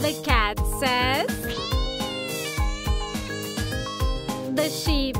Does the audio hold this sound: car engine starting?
no